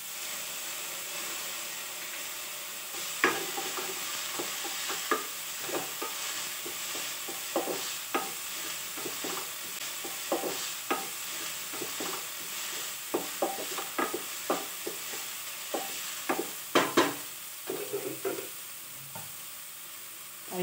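Onion and green chili fry in a pan as they are stirred, a continuous sizzling hiss broken by frequent spatula scrapes and clacks, close and fairly loud, with no talking.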